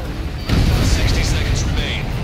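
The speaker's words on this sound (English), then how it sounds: "Did you see that explosion?" A missile explosion in the combat flight game Ace Combat 7 lands as a sudden heavy boom. It rolls straight into a loud, sustained rumbling roar that fills the rest of the moment.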